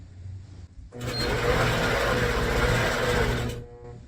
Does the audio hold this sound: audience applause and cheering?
no